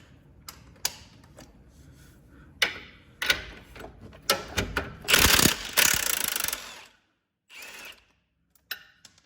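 A ratchet with an adapter and extension working on bolts of a Jeep Trackhawk, giving irregular bursts of clicking and a sustained rapid ratcheting run, with pauses and some tool clatter, close with no talking.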